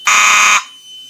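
A loud, steady electronic fire alarm buzzer from a Mircom FA-204E panel sounds for about half a second during a system test, then cuts off abruptly, leaving faint background hum.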